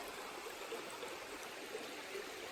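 A clean, flowing creek in Maryland's Savage River area, Big Run Creek: a steady, even wash of moving water, faint and uninterrupted throughout, with no talking.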